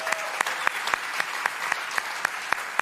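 Audience applause at a tech community event, continuous clapping with several distinct sharp claps standing out near the front.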